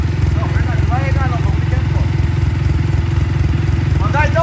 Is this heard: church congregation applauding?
no